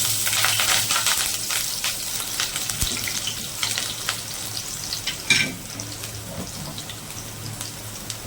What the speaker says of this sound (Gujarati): તેલ આપણું ગરમ થઈ ગયું છે દોસ્તો હવે આપણે એમાં રાઈ ને જીરું નાખી દઈએ